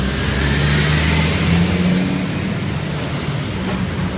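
Street traffic passing on a road in the French Quarter, a steady close-range rumble of car engines with some revving, continuous throughout without voices.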